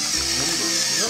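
A spice mill grinds spices in a short, steady, buzzing whir, loud and close throughout.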